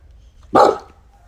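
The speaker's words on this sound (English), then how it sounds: "Are you barking at the moon?" A single sharp, close bark from a dog aiming its noise skyward toward the moon, loud and alone against a faint low background hum.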